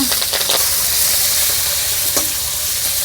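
Chopped onion and green chili fry in hot oil in a pan with a loud, dense, continuous sizzle. A few brief crackles stand out, and no voices are heard.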